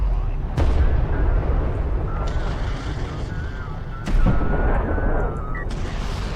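Gunfire and heavy impacts hitting an armored vehicle in the Homeworld: Deserts of Kharak strategy game, dense continuous battle noise with sharp booming blasts, under faint radio-style game voices.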